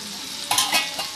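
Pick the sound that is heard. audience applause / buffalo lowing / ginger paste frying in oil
ginger paste frying in oil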